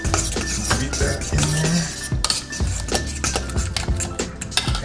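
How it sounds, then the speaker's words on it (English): Cream beaten into creamed spinach in a pan for a keto dish, with a utensil scraping and clinking against the pan in steady, busy strokes up close, no voice. "Whipping cream in there. Beat that"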